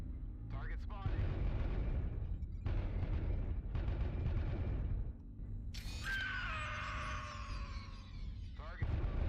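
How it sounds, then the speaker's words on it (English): An artillery strike in MechWarrior Online: a series of heavy, rumbling booms close by, followed by a ringing, whining tail and more blasts, with a synthetic voice speaking over the battle. "Artillery strike online."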